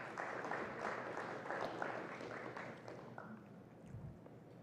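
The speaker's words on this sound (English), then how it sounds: "Ladies and gentlemen, please give yourselves a round of applause." Conference audience at a cricket conference applauding, a dense spread of claps that sounds somewhat distant and soft, thinning slightly toward the end, with no one speaking.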